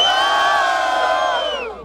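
A crowd at the Batalha da Aldeia rap battle in Barueri, São Paulo, roars with loud, sustained cheering and shouting, close and dense, fading slightly at the end.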